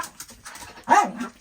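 Dogs indoors give a sharp, close bark followed by a short whimpering yip, with quiet room noise in between.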